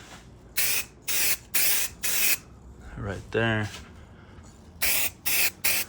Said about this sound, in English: I guess I could just spray the roof ones now.